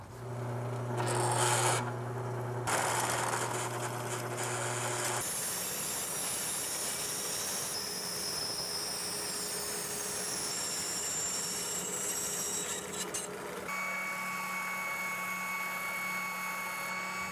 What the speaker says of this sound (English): I'm gonna drill this hole before I cut everything out.